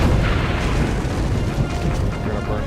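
Cannon fire from the Assassin's Creed: Revelations video game produces a loud, continuous booming roar, with dense rumbling and crackling that stays heavy for the whole stretch and has no pause or talk.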